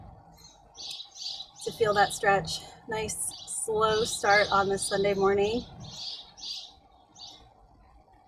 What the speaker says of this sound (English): Birds have a lot to say today.